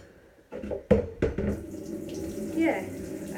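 A tap runs into a sink indoors, faint and close, with a few sharp knocks and clatters from items in the basin breaking through the soft rush of water.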